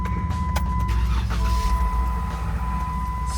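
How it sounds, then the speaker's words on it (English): A 2017 Jeep Wrangler's engine runs steadily right after its first start following a water pump replacement, a loud, continuous low rumble close by with a faint constant whine riding on top, and no voices. "And then I guess we should see if it starts up as well."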